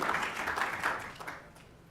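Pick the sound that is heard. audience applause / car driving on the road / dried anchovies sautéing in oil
audience applause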